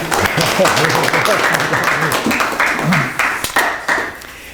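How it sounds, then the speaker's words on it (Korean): Audience applause breaking out at the start of a literature lecture, steady scattered clapping from a small room that carries on under a voice. "강의 시작하니까 박수 쳐야죠."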